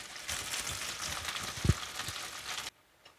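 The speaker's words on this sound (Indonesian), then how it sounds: "Kemudian sisa minyak tadi kita tumis." Shallots, galangal and torn lime leaves sautéing in leftover foamy oil from an omelette, a steady close sizzle with a spatula knock partway through, then cutting off to near silence.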